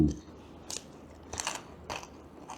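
Crispy German pork knuckle skin is bitten and chewed at a roadside restaurant in Bang Sao Thong, several sharp crunches spaced about half a second apart, close and fairly loud.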